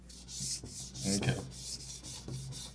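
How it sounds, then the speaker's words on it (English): A spatula scrapes oatmeal cookie dough around a bowl in a few close, rough rubbing strokes, alone without talk. "We're still scraping. And now it's time to start mixing."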